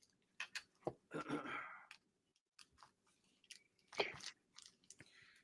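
A small plastic bag is handled up close, giving crinkly clicks and rustling crunches in short bursts with pauses, fairly quiet.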